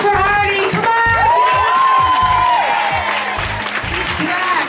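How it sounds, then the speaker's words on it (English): Audience at a live comedy show applauding and cheering, a dense wash of clapping with whoops and shouts rising above it, loud and steady throughout without a break. "Give it up for Artie! Come on!"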